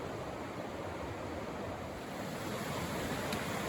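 Deep, fast-moving water rushes steadily beneath a bridge along a trail past cliffs, a loud, continuous broadband roar with no pauses and no voices.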